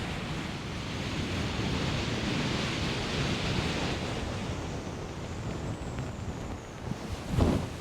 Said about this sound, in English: Every time I think that wind's dropping away, it starts pushing again.